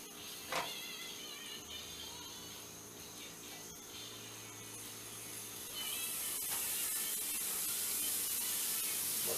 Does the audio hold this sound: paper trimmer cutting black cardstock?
no